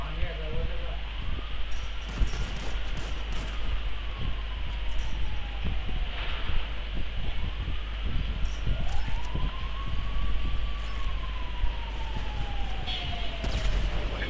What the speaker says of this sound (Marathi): तुम्हाला हा सायरनचा आवाज येतो.